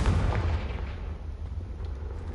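The Confringo blasting spell in Hogwarts Legacy lands as a single deep, booming explosion that hits hard at the start, then rumbles and fades over a couple of seconds.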